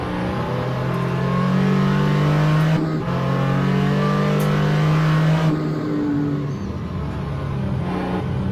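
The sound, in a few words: Porsche 935 K3 race car accelerating in a racing video game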